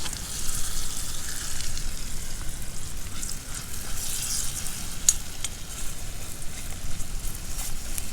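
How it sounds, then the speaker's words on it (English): Butter sizzles steadily in a pan over a campfire, a continuous close crackle and hiss that holds even for about eight seconds with no talking. "My butter's starting to burn"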